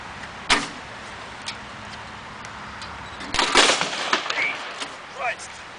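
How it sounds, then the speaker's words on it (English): An explosion blowing up a door: a sharp bang rings out, then a louder blast bursts through a steady background hiss, followed by scattered debris clatter and smaller thuds. "I forgot that we were going to blow up the door."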